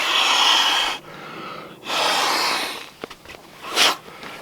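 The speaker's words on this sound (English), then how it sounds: "this inflates literally in 2 breaths" Two long, forceful breaths blow into a Klymit or Nemo inflatable sleeping pad, each a whooshing rush of air. A few short sniffs and puffs follow, close to the microphone.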